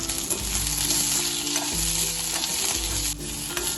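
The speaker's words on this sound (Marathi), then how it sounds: "त्याच्यामध्ये तेल टाकते आणि याच्यामध्ये मी कांदा भाजून घेते" Onion frying in hot oil, a loud, continuous sizzle close up with a low hum beneath it, no talking.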